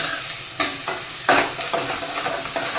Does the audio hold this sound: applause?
no